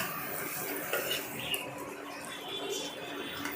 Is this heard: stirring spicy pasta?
yes